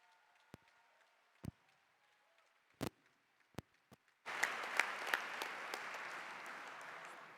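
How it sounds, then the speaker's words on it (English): At the opening ceremony of the 5th ITUC World Congress, a few scattered claps lead into a sudden burst of sustained audience applause that fills the hall and continues steadily. "another round of applause for Shelley and Daniel."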